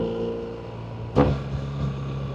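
A BMW R1300GS motorcycle with a Black Widow exhaust hums at a moderate, steady engine note, broken midway by a single brief blip or pop before settling back to the even drone.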